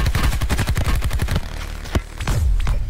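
Rapid bursts of turret gunfire in the video game Call of Duty: Blackout, a fast rattling volley through the first second and a half, then scattered louder single shots, loud and close.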